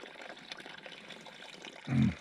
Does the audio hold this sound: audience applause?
no